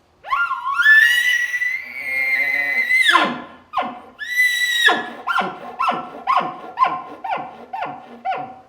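A hand-held elk call imitating a bull elk's challenge bugle: a rising whistled squeal held for a few seconds, a second shorter bugle, then a rapid series of grunting chuckles, loud and close.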